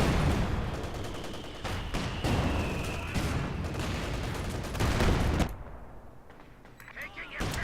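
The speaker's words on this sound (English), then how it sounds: "He's just trying to kill them with anti-tank gunfire." Anti-tank gunfire in the strategy game Company of Heroes 2 cracks out in repeated sharp bursts and booms over dense battle noise, with a commentator talking over it.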